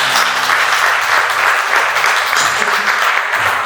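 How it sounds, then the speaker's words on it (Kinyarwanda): A church congregation claps loudly and steadily for several seconds, a dense close burst of applause with faint voices underneath. "nubwo atatwumva tumukomera amashyi"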